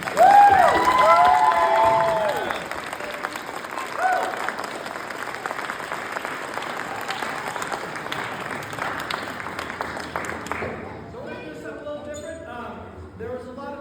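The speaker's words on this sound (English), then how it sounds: "give them a huge round of applause" A crowd breaks into loud applause with some cheers and whoops, then the clapping thins and fades into scattered claps and murmuring.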